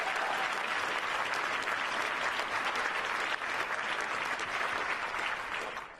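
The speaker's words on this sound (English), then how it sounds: "Give him a big round of applause." An audience applauds steadily and loudly at a climate summit speech by Barack Obama, a dense, unbroken wash of clapping that holds for several seconds before easing slightly at the end.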